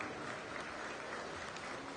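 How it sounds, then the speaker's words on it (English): Faint, distant crowd applause ripples through a youth livestock show arena after the heifer show exhibitors are presented, steady and soft for a couple of seconds. "give these exhibitors in our heifer show a nice round of applause"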